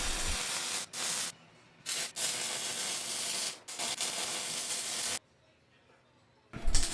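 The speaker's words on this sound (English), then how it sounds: "Now weld the vertical support in place." Welding a steel vertical support into place on a DIY Mojave tire carrier swing arm gives a steady, close crackling hiss in several bursts, broken by short pauses and a longer quiet stretch near the end, with no talk.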